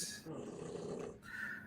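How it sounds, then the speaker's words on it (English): A sleeping dog snoring nearby, a low rough rumble that swells through the middle of the short clip and fades at either end. "That's my dog snoring, by the way."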